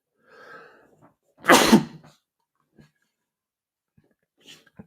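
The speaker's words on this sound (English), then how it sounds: "I've got another sneeze." A single loud, close human sneeze from a man with a cold, preceded by a quick breathy intake and followed by faint sniffs and small mouth noises in an otherwise quiet room.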